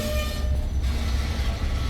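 A slow-moving stone freight train led by Wheeling & Lake Erie locomotives rumbles past close by in Medina, Ohio, a loud, steady low roar of engines and rolling cars with no talking.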